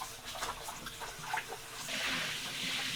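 Fresh tap water runs over raw cow foot meat in a kitchen sink, a close splashing rinse that swells into a steady, louder gush in the final second.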